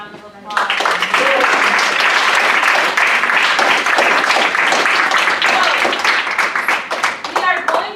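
Applause from a student leadership workshop group breaks out suddenly after a brief quiet start, sustained loud close clapping that thins toward the end, with some voices mixed in.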